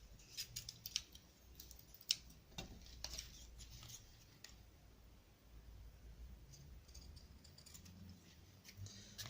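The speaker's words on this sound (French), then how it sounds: "Voilà, je coupe mes angles." Scissors snip paper corners for a handmade album, a series of quick crisp cuts in the first few seconds, then fainter handling, close and quiet with no talk.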